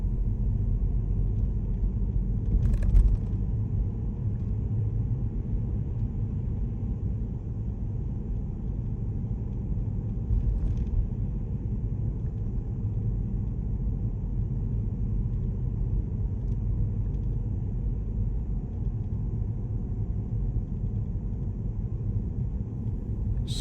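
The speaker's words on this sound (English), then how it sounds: "You can see I can just get my car down here, and I've got a little small Fiesta." A small Ford Fiesta creeps slowly down a narrow lane on Guernsey's west coast in the early morning, its engine a steady low rumble heard from inside the car, with one brief knock near the start and no talk.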